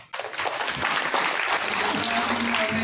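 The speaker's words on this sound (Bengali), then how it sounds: "প্রথমে স্যার জন্য একটা হাততালি চেয়ে নেবো" An audience claps together at a banquet learning-experience event, a dense, steady wash of applause that starts abruptly and holds at full strength, with a faint tonal hum underneath.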